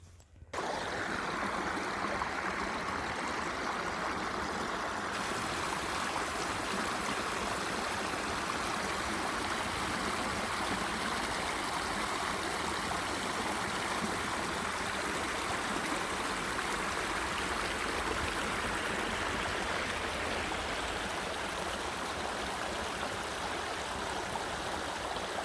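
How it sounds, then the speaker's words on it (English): A creek flows in winter, a steady broadband rush of running water that carries on unbroken and evenly for the whole stretch, fairly close and alone. "go down to the main creek"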